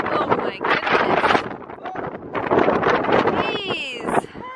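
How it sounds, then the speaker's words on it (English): Strong wind gusts outdoors roar and buffet the microphone in a steady broadband rush, with people talking over it and a brief squeal near the end. "Whoa, it's windy. It's so windy outside."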